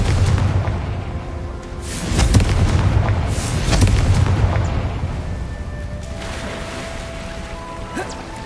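A Confringo fire spell explodes in Hogwarts Legacy, loud booming blasts rolling out in two or three heavy waves with crackling debris, then a long rumbling tail.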